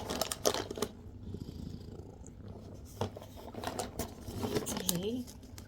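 A house cat named Hugo purrs close by in a soft rumbling rhythm, mixed with handling rustles, while people talk over it.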